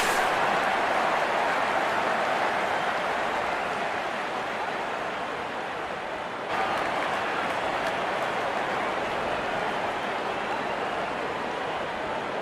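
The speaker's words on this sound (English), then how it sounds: "Looking all set for today's encounter, and the crowd cheering in joy." Spectators at a Big Bash League cricket stadium applaud and cheer in a dense, continuous roar that stays loud and steady, dipping briefly before resuming at full strength.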